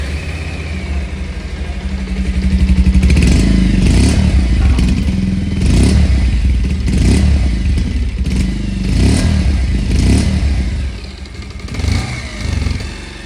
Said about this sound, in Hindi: ये 150 का साउंड है।